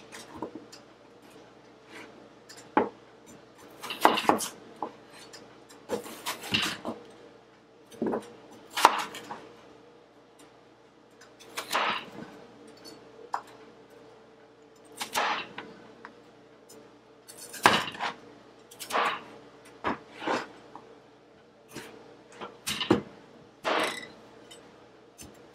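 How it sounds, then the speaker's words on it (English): A knife chops potatoes into chunks on a board, with irregular bursts of sharp cuts and pauses between them, close and fairly quiet. "Because they're going to be potato chunks, I want to chop these up even more than I did the first time."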